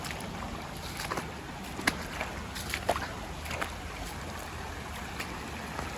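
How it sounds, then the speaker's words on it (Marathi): River water below a mountain waterfall flows in a steady, broad rushing wash, with occasional small splashes and light knocks standing out nearby. "पाणी येत आहे खाली, तिकडे वरती डोंगरात आहे वॉटरफॉल, इकडे पाणी येत आहे"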